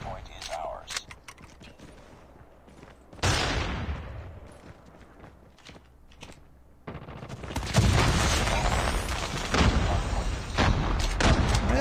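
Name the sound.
MX9 SMG gunfire in Call of Duty Mobile video game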